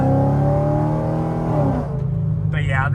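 A C6 Corvette with an LS3 V8 accelerates hard, its engine note rising steadily and loud from inside the car before the revs ease off and a shift changes the tone near the end.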